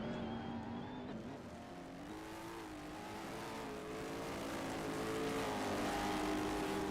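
A race car engine drones and rises in pitch at the 2023 SLC GTI Patriot GP, heard steadily and somewhat distant as it accelerates along the track.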